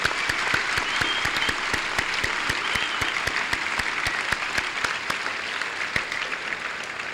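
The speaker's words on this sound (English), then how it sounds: "Let's give them all one more round of applause." Audience applause at a high school graduation ceremony, a steady crowd wash of clapping with distinct close claps from one nearby pair of hands keeping a regular beat throughout.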